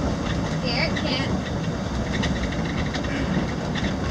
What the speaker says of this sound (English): Driven the RV on a railroad track before.